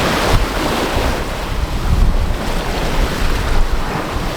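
Strong wind of mid-20 knots at sea aboard a sailboat, a loud steady roar of gusts buffeting the microphone over washing, breaking waves, with no talk.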